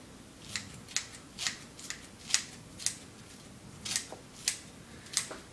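Lettuce leaves and celery tops are chopped into small pieces for a worm bin, about a dozen crisp, close cutting snips in a loose, uneven rhythm with no talk.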